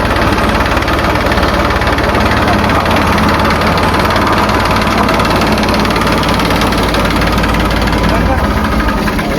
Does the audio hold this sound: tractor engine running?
yes